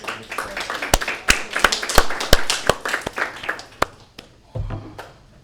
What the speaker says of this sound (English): Clapping right into the microphone.